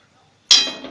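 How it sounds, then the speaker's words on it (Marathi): A metal kadhai is set down on a gas stove while Kolhapuri mutton is being cooked: a single sharp, close clank after near silence, with a bright metallic ring that fades slowly. "कढई मी ठेवले"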